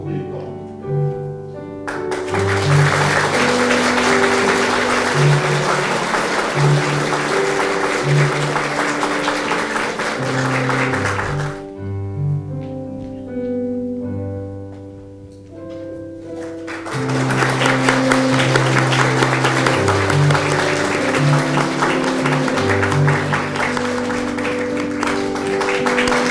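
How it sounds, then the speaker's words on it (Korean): A church congregation applauds a retiring elder at a service honoring him; sustained clapping fills the room, with a brief lull midway before it swells again, under steady organ or keyboard music. "우리 장로님을 이렇게 높여드리고 또 박수 쳐드리면서"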